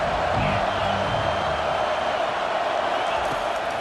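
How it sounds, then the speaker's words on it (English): Stadium crowd noise building on third down in the College Football 25 video game, a loud, continuous roar of fans backing the defense that stays full and steady throughout. "Decibels rising as the crowd gets behind this defense on 3rd down."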